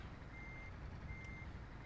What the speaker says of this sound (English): Miles away, and the alarms keep going off.